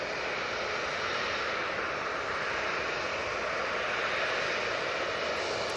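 A Ryanair jet airliner departs Manchester Airport for Milan, its engines giving a steady distant broadband roar throughout with no talking over it.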